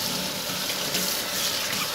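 Steady stream of tap water runs into a kitchen sink while a stove drip pan is rinsed, a continuous close hiss and splash with no talking.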